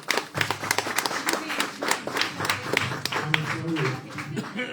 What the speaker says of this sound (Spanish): un aplauso pues para todos